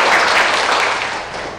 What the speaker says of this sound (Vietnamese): Cả lớp chúng ta thưởng bạn Nguyệt một tràng vỗ tay nào